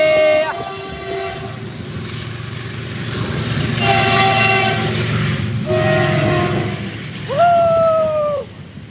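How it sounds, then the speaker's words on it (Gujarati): A train rumbles past close by in heavy rain while its horn sounds in several long blasts, the last one rising and bending in pitch before cutting off. "જોયેલા મિત્રો રેલગાડી જઈ રહી છે"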